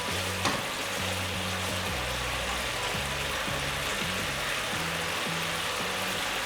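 Mustard paste with green chili and salt frying steadily in a pan, a continuous broadband sizzle with a low rhythmic hum running underneath, close and fairly loud, with no talking.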